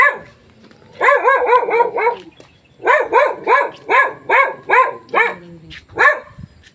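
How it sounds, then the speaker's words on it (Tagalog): A dog barks in quick bursts, first a rapid string of four or five barks, then a steadier series of single barks spaced about half a second apart, close and loud over a quiet background. "Kaya may aso."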